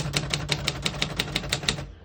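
Rapid, even typing on a 1951 Royal Quiet De Luxe portable typewriter, about a dozen crisp key strikes at a steady rhythm, close and loud, ending abruptly with no voice.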